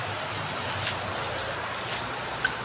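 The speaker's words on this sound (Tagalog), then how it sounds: "Ayan, lakas ng ulan." Heavy rain pours steadily in a dense, continuous hiss close by, loud and unbroken, with one faint tap near the end.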